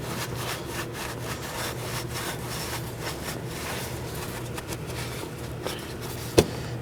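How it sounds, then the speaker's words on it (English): A rag rubs briskly back and forth over the brake surfaces of a 2013-2019 Nissan Sentra during a wheel cylinder replacement, a steady close scrubbing with one sharp knock near the end. "Now I'm going to take some brake cleaner and a rag to clean the surfaces"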